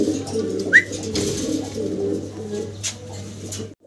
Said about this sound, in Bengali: দেখেন নটটা ডাকাডাকিতে ব্যস্ত, খুবই অ্যাক্টিভ